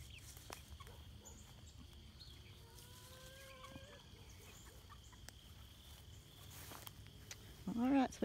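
Chickens and a black rooster call faintly from a yard, with a few distant clucks and crows beneath quiet talking and low outdoor background noise.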